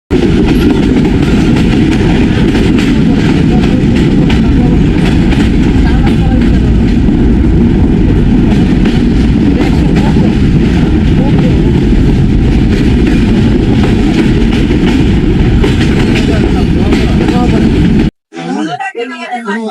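The Sundarban Express passenger train between Khulna and Dhaka runs with a loud, steady rumble and rattle that holds constant for most of the clip, then cuts off abruptly near the end.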